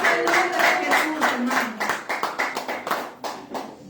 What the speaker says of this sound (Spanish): Hermano, ese aplauso para quién será.